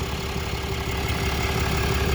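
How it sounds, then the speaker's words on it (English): A 2021 Ram 3500 pickup engine, 420 hp, idles steadily and quietly at close range, a smooth continuous hum with a faint low rumble and no talking. "Engine runs super quiet."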